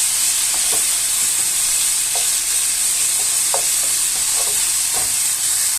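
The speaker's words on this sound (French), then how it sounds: "Bon, je fais revenir, on se retrouve tout à l'heure. Pour info, je fais cuire à feu vif." Meat browns in a pan over high heat, a loud steady sizzle filling the whole clip, with a few faint scrapes and clicks of stirring scattered through it and no voices.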